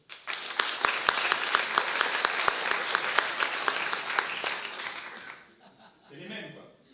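A lecture audience in Lyon claps loudly, with sharp individual hand claps standing out, then the applause fades after about five seconds into light chuckling and murmured voices.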